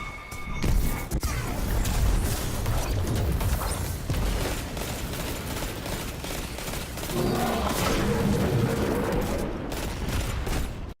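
Rapid, dense weapon fire from the tractor cannon in Destiny 2 during PvE play, a loud continuous barrage of blasts and mechanical clatter that runs for about eleven seconds with no talk.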